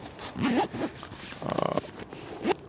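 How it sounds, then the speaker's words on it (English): A zipper is drawn around a KEMIMOTO 37-litre expandable motorcycle sissy bar bag in several quick, close, raspy pulls, with one longer buzzing stretch in the middle and a short final tug. "Zip that around."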